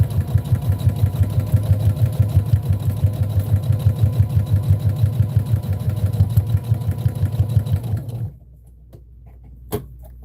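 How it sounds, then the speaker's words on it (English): A sewing machine runs steadily and close up, with a fast rhythmic mechanical thump while backstitching fabric scraps for a potholder, then stops, leaving a quiet room and a single faint click. "I'm going to go ahead and backstitch a little bit on that one."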